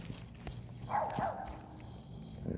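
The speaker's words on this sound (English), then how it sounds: "a dog up there barking." Up the way, a dog barks in the distance, giving a faint, brief bark or two over a quiet outdoor background.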